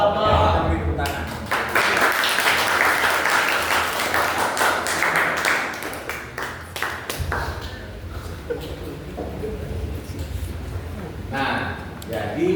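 Students in a classroom give a round of applause, with steady clapping for several seconds that then thins out and gives way to talking.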